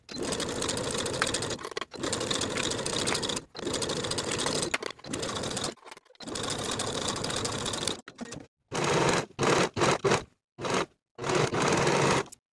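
A sewing machine stitching the sleeve seams of a Riva shirt in several bursts of rapid, steady whirring and clatter, separated by short pauses as the fabric is guided.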